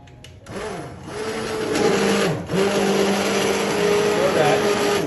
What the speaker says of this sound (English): what we do is we take a hand mixie